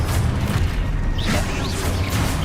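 Confringo blast spell in Hogwarts Legacy, a loud, dense booming explosion with a rumbling low end that swells and rolls on for a couple of seconds amid combat noise.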